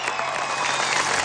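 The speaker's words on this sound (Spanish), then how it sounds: "Un aplauso para nuestro presidente." A crowd at a Venezuelan anniversary event applauding President Maduro, a dense, steady wash of many hands clapping at a distance, brief and continuous.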